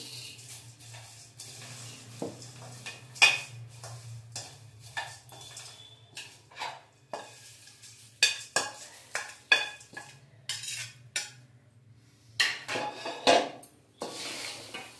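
Snack ingredients mixed together by hand in a bowl, with irregular scraping, rustling and light clinks against the container, close and intermittent with quiet gaps and a faint low hum, no talk.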